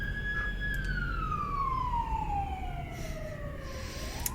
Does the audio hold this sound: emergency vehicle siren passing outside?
yes